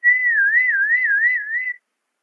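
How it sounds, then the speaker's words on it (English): A person whistles a single sustained, wavering melodic tone for nearly two seconds, loud and clear with nothing else in the background, then it stops abruptly. "And when I'm whistling, it says I'm whistling."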